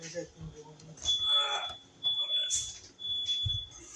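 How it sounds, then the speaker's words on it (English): A thin, high-pitched smoke alarm tone keeps sounding in the background while people talk and handle things nearby during electrical outlet wiring work. "Why is that alarm going off?"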